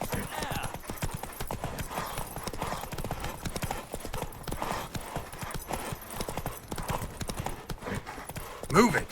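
A horse galloping in a race in The Witcher 3, its hooves drumming rapidly and continuously up close, with a shouted voice over the hoofbeats and a brief whinny near the end.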